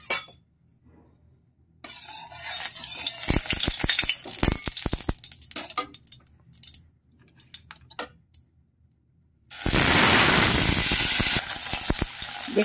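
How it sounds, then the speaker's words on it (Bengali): Small mourala fish fried in hot oil in a kadai: a loud, continuous sizzle after rattling handling and clattering sounds, all close up and with no talking. "কড়াতে পরিমাণ মতন তেল দিয়ে দিলাম। প্রথমে মাছগুলোকে ভেজে নেব।"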